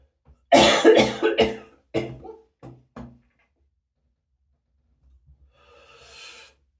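A burst of several harsh coughs close by, clustered together over a couple of seconds, then quiet with a faint rustle at the end.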